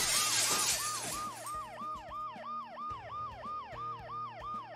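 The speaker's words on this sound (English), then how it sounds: "I've got the noise the ambulance makes." A wailing ambulance siren sounds in the video game Dead Synchronicity, its two-tone cycle repeating steadily at moderate volume after a brief burst of shattering glass at the start.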